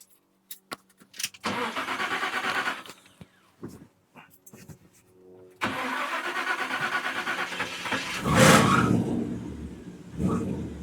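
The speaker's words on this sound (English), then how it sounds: "This sounds so nice with some Smitty exhaust on it." A chopped 1950 Mercury with Smitty exhaust cranks in short stutters, fires up, and settles into a loud, throaty idle before a sharp rev, heard up close with no talking.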